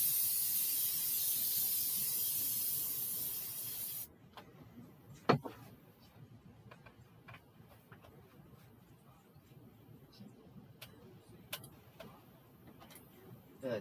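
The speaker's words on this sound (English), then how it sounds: "I'm going to spray my pan one more time." Cooking spray hisses onto a skillet in one continuous burst of about four seconds, followed by quiet kitchen clicks and taps.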